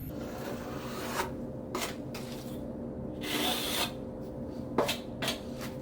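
A V-notch trowel rasps and scrapes across tile adhesive on a wall, leaving repeated gritty spreading strokes with short sharper scrapes, close and fairly quiet.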